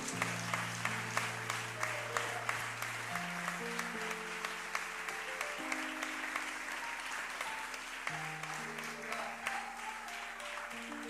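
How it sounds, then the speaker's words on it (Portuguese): Congregation applause at a church service fills the space as a dense, steady wash of clapping, with sustained musical tones from a keyboard or organ playing underneath. "Você poderia dar uma salva de palmas para o Senhor?"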